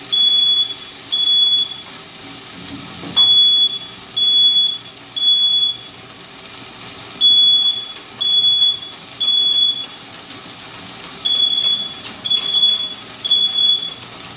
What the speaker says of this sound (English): Give me 1 second, it's my fire alarm.